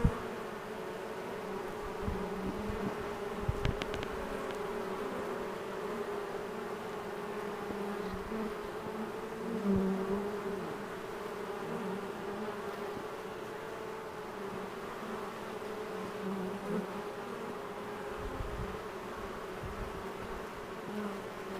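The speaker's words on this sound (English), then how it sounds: "Have you noticed that the roar from their wings has" A swarm of honey bees being captured into a box hums with a steady low buzz of many wings, moderately faint and continuous, with a few brief clicks and knocks nearby.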